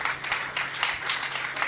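Loud, steady applause from a congregation at a Sunday church gathering, a dense wash of clapping that runs unbroken for its whole short length.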